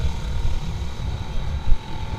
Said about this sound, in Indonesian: agak jauh dari bunyi knalpotnya.